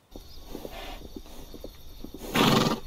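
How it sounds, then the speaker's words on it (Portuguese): Hooves of a herd of horses thud and clop irregularly, then a loud horse neigh bursts out near the end; no voices. "Herd of horse."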